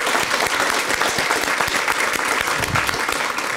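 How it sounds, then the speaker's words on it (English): An audience at a library grand reopening claps in dense, sustained applause, loud and close throughout with no pause. "Can we give them a round of applause again,"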